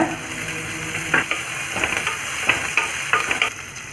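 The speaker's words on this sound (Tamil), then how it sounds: "அடுத்து பச்சை மிளகாயையும் பூண்டையும் ஆட் பண்ணி வதக்கிக்கோங்க" Green chillies and garlic sizzle with onions in a pan in a steady frying hiss, while a spoon scrapes and stirs in several sharp strokes close by.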